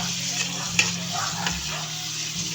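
Papaya fries frying in hot oil give a steady, close sizzle with a faint crackle and occasional small clicks, all alone without talk.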